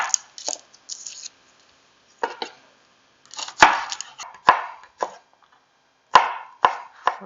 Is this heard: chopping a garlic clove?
yes